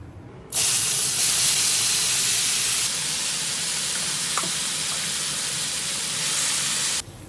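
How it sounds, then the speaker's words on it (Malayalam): Potatoes dropped into a tablespoon of oil in a hot pan for fried potato egg rice give a loud, steady sizzling hiss that starts abruptly and runs for about six seconds before cutting off. "ഇതിലോട്ട് ഒരു ടേബിൾ സ്പൂൺ ഓയിൽ ഒഴിച്ചു കൊടുക്കുക ഇതിലേക്ക് ഉരുളക്കിഴങ്ങ് ചേർത്ത് കൊടുക്കുക"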